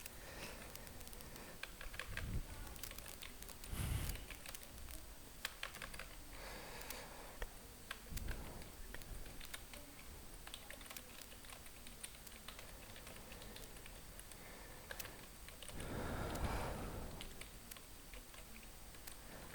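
Quiet, continuous keyboard typing on an online typing speed test, a rapid patter of soft key clicks with a few louder taps scattered through.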